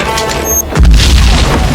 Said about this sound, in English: After the explosion, Todd tied himself with ropes